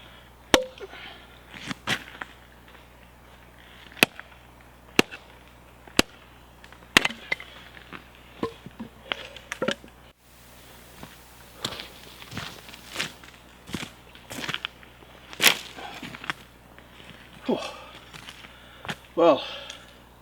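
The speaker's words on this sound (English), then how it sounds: "I'm going to make a load of kindling." Sharp, irregular knocks of wood being chopped into kindling at a winter camp in the Galloway Forest, spaced strikes over about twenty seconds, fairly close, with occasional quiet talk in between.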